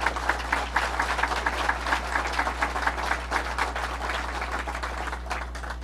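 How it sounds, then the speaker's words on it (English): Audience at a governor's announcement in a children's hospital applauds a delegation with steady, moderately loud clapping over a constant low hum, the pattern holding for several seconds. "They deserve a round of applause."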